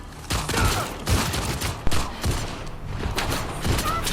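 Rapid gunfire in The Last of Us Part II, a dense fusillade of repeated shots in quick bursts that stay loud and close across the whole stretch, with a faint voice now and then beneath the shooting.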